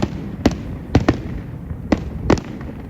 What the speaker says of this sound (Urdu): مناظر آتش بازی کے ایک عجیب سا سما پیدا کر رہے ہیں